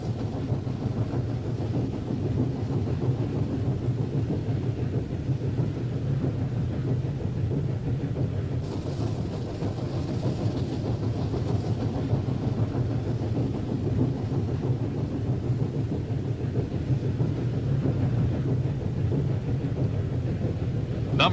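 Shortline locomotive Number 76 runs through Adams County, Pennsylvania countryside in 1987, making a steady, loud, rumbling roar that holds for about twenty seconds, mixed with heavy wind buffeting on the microphone.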